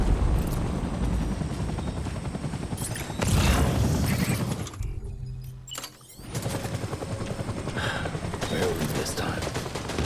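A helicopter in the Death Stranding video game thunders with a loud rotor roar, cut by a brief break before the heavy mechanical din resumes, with bursts that resemble gunfire mixed in.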